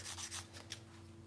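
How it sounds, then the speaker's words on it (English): Gentle hand sanding around the face of a knife handle, a few soft rasping strokes in quick succession, faint and close under a low steady hum. "Just a gentle sanding around the face"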